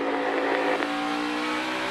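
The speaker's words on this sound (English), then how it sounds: "Boy, you could hear the RPM come up on that thing." A NASCAR stock car at Bristol Motor Speedway gets loose, its engine revving up into a loud, continuous roar that stays close and dominant throughout.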